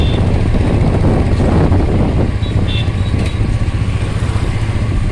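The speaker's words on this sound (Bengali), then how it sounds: "এই যে ও বাইক চালাচ্ছে" A motorcycle engine drones steadily throughout, with loud rushing wind noise as the bike rides along.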